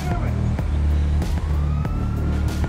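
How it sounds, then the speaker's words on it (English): Police sirens wail in the game GTA 5, a rising and falling electronic tone over a low engine rumble with rhythmic thumps, loud and close beneath excited talk from players. "Boys, we got sirens."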